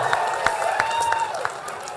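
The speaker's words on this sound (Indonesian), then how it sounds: "Tepuk tangan dulu, lihat tepuk tangan dulu." An audience claps at a town-hall style public discussion in West Sumatra, with steady scattered applause, a few louder claps standing out, and a faint whistle-like tone running through the middle.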